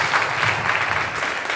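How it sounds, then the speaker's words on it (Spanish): Congregational applause in a church worship service, a dense, steady wash of many hands clapping together throughout, with a faint voice or two underneath. "Dale un aplauso a nuestro Rey de Reyes"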